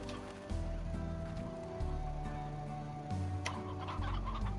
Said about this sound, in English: there are so many hens running around